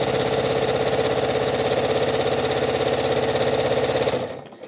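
A Janome Skyline S7/S9 sewing machine with an Accufeed foot attached runs steadily at full speed, a loud, fast, even mechanical whirr and rhythmic chatter that keeps going alone, then stops abruptly near the end.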